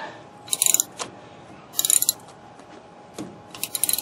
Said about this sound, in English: it fits right in the square, and you just ratchet it tight